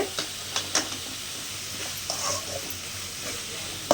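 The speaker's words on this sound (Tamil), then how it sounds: "இந்த வெங்காயம் வதங்கிறதுக்கு வேண்டி நம்ம கொஞ்சம் உப்பு சேர்த்துக்கலாம்" Onions sauté with salt in a pan, a quiet steady sizzle close by, broken by occasional sharp clicks and scrapes of a spoon stirring.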